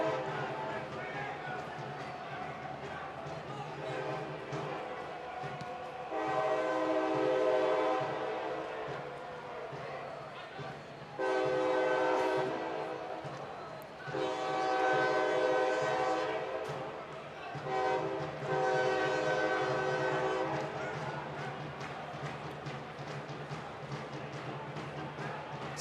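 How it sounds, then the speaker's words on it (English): A train horn sounds in long, loud blasts near PPL Park during a Philadelphia Union versus Rochester Rhinos U.S. Open Cup soccer match, with a passing train rumbling underneath and commentators talking over it. "they were just making way for the train"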